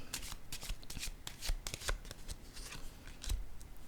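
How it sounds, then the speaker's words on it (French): Tarot cards are handled and laid down on a table: soft, close shuffling and slapping sounds in irregular bursts, fairly faint. "Là, je vais déposer une carte ici."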